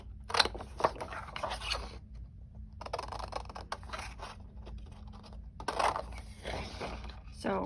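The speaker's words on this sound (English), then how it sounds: "So just gonna cut everything out." Scissors cut printed paper pieces for a junk journal in bursts of close, crisp snipping and rustling, with quieter pauses between runs of cuts.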